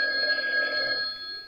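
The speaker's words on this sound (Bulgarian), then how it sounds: "откъде звъни този будилник?" An alarm clock rings with a shrill, continuous metallic bell tone, loud and close, fading slightly toward the end, with no talking.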